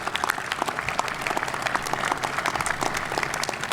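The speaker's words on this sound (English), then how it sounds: "Give yourselves a round of applause for all that you've done in this group project." An audience applauds at a ribbon cutting ceremony for the Atlanta Public Safety Training Center, a dense, steady patter of many hands clapping close by without speech over it.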